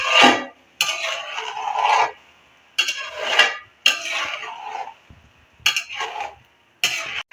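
Rice being stirred into melted sugar in a cooking pot, with a spoon scraping and clinking against the metal in several separate bursts and brief pauses between them.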